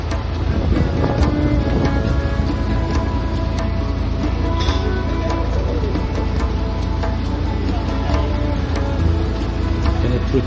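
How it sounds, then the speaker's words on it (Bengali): Strong wind gusts steadily outdoors at a riverside hilsa fish festival, a loud, continuous low rumble and buffeting across the whole stretch with faint background activity. "প্রচন্ড হাওয়া।"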